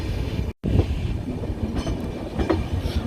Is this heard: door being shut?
no